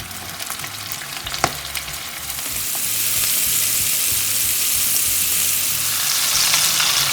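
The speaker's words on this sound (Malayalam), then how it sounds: "ഇനി ഇതിലേക്ക് നല്ലതായിട്ട് ഹോട്ടായി 10 പീസ് അറ്റ് എ ടൈം നമുക്ക് സ്ക്വിഡ് ഇട്ട് കൊടുക്കാം." Squid pieces dropped about ten at a time into hot oil start deep-frying, and a loud, dense sizzle builds and holds steady after a few clinks at the start.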